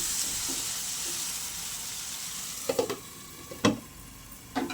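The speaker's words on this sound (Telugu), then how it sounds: "ఒకసారి అయితే కలుపుకుని మూత అయితే పెట్టాను ఇవైతే ఫ్రై అవనిద్దాం" Prawns fry in a covered pan for a Godavari-style prawn and raw mango curry, a steady low sizzle with a few brief lid or stirring clatters near the end, close by and without voices.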